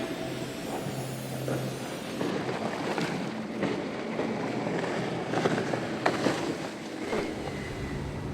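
A Frauscher 1017 motorboat with twin 300-horsepower Mercruiser 350 Mag engines cruises over open water, a broad rushing roar of hull, spray and wind buffeting the microphone, with a low engine hum underneath and occasional splashes.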